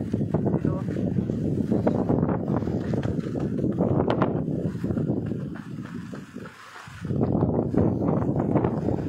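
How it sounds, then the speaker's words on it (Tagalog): Strong wind buffets the microphone in loud gusts, briefly easing before roaring back, with voices faintly mixed in. "It's windy day."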